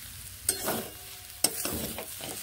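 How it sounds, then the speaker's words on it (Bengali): Bottle gourd leaves frying in a pan, with a soft continuous sizzle and two sharp scraping stirs of a spatula, close and quiet, no voices. "খুব ভালোভাবেই এগুলোকে ভেজে নিচ্ছি।"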